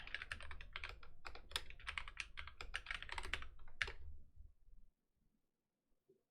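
Rapid typing on a computer keyboard, a close, dense run of clicking keystrokes for about four seconds that slows to a few scattered taps and then stops into near silence.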